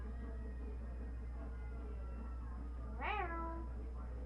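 A single clear cat meow with a rising-falling pitch sounds near the end of a quiet stretch, close and moderately loud against faint room hum.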